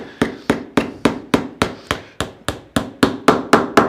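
Hammer driving nails into the corner of a small wooden box, about fourteen sharp evenly spaced blows, close and loud, with no talk.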